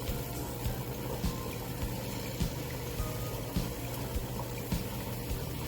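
Water pours and trickles steadily into a rock tumbler barrel loaded with Que Sera jasper and rhyolite, a continuous close splashing with faint periodic knocks underneath and no talk.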